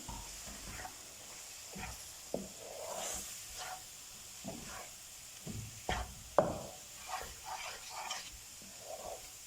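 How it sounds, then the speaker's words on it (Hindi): Roasted gram flour stirred in a pan with milk added a little at a time for raw turmeric halwa: soft hiss and faint sizzle under irregular spoon scrapes and taps, quiet and close. "अब मैं इसमें थोड़ा थोड़ा करके दूध ऐड करूँगी, इकट्ठा नहीं ऐड करेंगे।"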